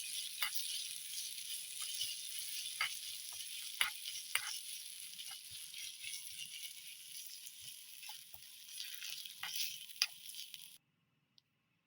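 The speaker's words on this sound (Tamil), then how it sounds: "இப்போ நல்லா கிளறி விட்டுக்கலாம்." Prawn samosa filling fries in a miniature kitchen pan while being stirred, a faint steady sizzle with small scraping clicks scattered throughout, then stopping abruptly.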